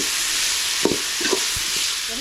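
Tomatoes sauté in a hot pan with ginger-garlic paste for chicken curry, a steady close sizzle broken by a few scrapes and stirs of the spoon.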